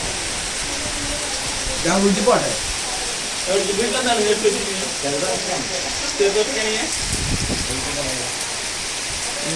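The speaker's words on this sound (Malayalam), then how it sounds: "കനത്ത മഴയും നല്ല കാറ്റൊക്കെ ഉണ്ടായിരുന്നു." Heavy rain with wind pours steadily outdoors, a dense hiss that runs throughout while people talk over it.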